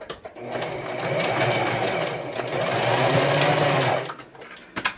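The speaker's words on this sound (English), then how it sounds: "here are our items getting sewn in there" A sewing machine hums in one steady run for about four seconds, stitching fabric Christmas garland pieces into place, then stops with a few light clicks.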